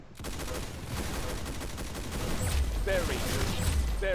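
Rapid automatic gunfire from shooting in the video game Roblox Arsenal: a dense, continuous rattle of shots that grows louder toward the end, with game effects mixed in.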